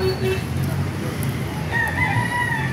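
An eight-month-old Boston Sweater gamefowl rooster crows in the last second or so, a drawn-out call over steady background noise, with a faint voice earlier.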